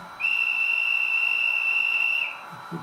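A long, steady, high-pitched train whistle from a PKP Intercity EU44 electric locomotive in a train simulator game sounds for about two seconds over a low background rumble, then cuts off.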